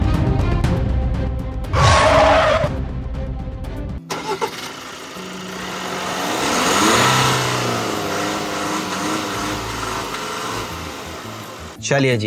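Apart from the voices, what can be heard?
MG Majestor SUV engine starting to accelerate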